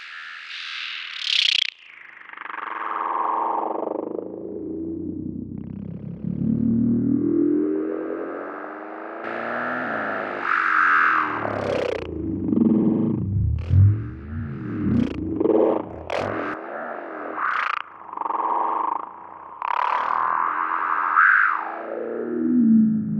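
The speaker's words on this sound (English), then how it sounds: "So let's take a listen to this band pass." A synth tone runs through a band-pass auto filter in a parallel effects rack, its swept resonance sliding down and up in distorted, vowel-like wah sweeps, loud and continuous with rhythmic stuttering bursts.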